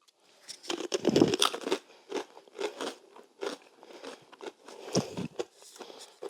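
Crunching and chewing of Budweiser flame grilled ribs flavoured snacks, a close, dry series of crisp bites and crackles in uneven bursts over several seconds, with no talking.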